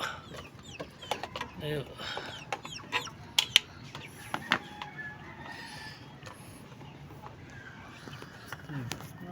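Chickens cluck and squawk in short bursts close by, with scattered sharp clicks and people talking in the background throughout.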